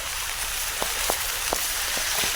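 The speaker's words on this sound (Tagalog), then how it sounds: "grabe ulan na to eh" Heavy rain pours in a dense, steady hiss, with occasional louder drops or splashes standing out against the constant downpour.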